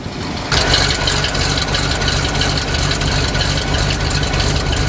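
A 427 dump truck engine running close and loud on soft farm ground, a low rumbling idle that steps up sharply in level after half a second as it is put in gear, then holds a steady heavy drone.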